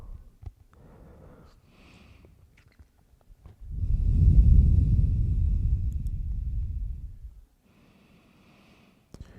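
Long, slow breath during a yoga session, a deep rushing exhale lasting several seconds, close to the microphone, framed by softer breaths before and after.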